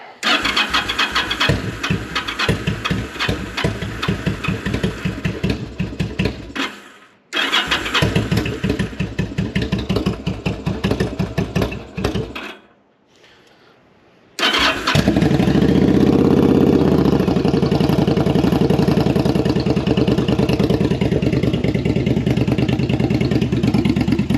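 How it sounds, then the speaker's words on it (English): Cold start without choke on a custom bobber motorcycle after carburettor sync work: the starter cranks in rapid bursts, stops twice, then the engine catches and settles into a loud, steady, slightly uneven idle. "So let's see if it will start without choke. Cold start, so it's probably gonna crank a few times to get fuel."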